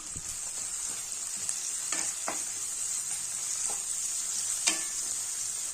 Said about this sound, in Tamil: இந்த வெங்காயம் எல்லாம் லைட்டா வதங்கிடுச்சு